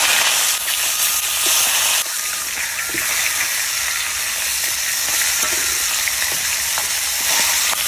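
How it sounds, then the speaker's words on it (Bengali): Turmeric- and salt-coated fish head fries in a wok, a dense, loud, continuous sizzle of hot oil heard up close, steady throughout with faint spatters and no voices. "মাছের মাথা ভাজা হয়ে গেছে, আর নামাই নেব।"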